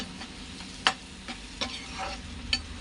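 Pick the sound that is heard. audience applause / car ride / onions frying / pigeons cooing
onions frying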